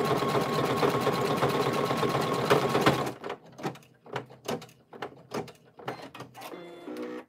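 A Brother Innovis embroidery machine stitches a patch, its rapid steady needle whir running loud and close for about three seconds, then giving way to a series of separate clicks and short mechanical thumps as it finishes.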